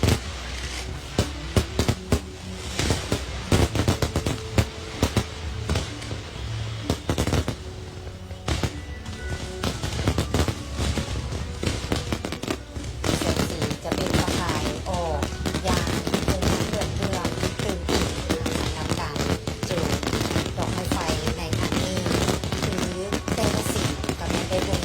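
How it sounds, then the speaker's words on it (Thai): Fireworks display for the 50th anniversary of Lao National Day on 2 December 2025, with shells in national flag colours and champa flower patterns: a dense, continuous barrage of loud cracks and booming bursts with no let-up. "เจ้านี่ก็คือการจุดพลุสุดที่3ของค่ำคืนนี้"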